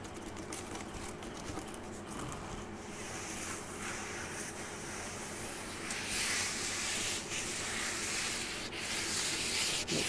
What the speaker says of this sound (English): So I'm using their scratching board, whatever you want to call this,